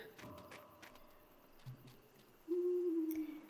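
An owl hoots in the video game Endling - Extinction is Forever, a single sustained low call that rises clearly above a quiet, faint ambient background near the end.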